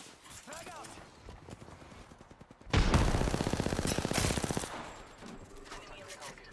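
Automatic gunfire in Apex Legends, a loud sustained burst of rapid shots lasting over a second, set among quieter game sounds with someone talking before and after.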